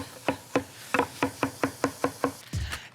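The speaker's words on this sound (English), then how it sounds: "So I'm going to just give this a sort of a coarse chop." A knife coarsely chopping spinach on a cutting board, nine crisp evenly spaced chops in a steady rhythm, close and clear, ending in a brief scraping sweep.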